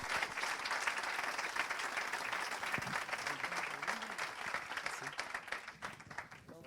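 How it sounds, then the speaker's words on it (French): A crowd at an evening business awards ceremony applauds steadily, dense clapping filling the room throughout, tapering slightly toward the end. "on peut les applaudir bien fort."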